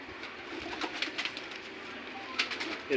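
Pigeons on a rooftop in the Old City of Jammu, giving soft, low cooing calls close by, with faint scattered sounds around them.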